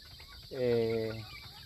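A farm chicken lets out a single drawn-out, harmonic cluck-like call lasting under a second, fairly close, over faint rural background noise.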